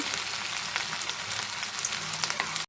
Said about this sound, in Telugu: కొంచెం గోల్డెన్ కలర్లో వచ్చే వరకు మనం ఫ్రై చేసుకున్నామండి